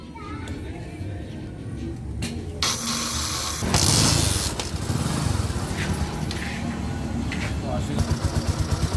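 A Bajaj Boxer X150 motorcycle engine, 2020 version, running after a piston replacement: a steady, close mechanical idle with a few revs and bursts, while a voice talks over it.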